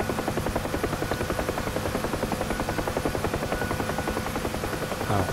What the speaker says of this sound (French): voilà l'autre hélicoptère qui se pose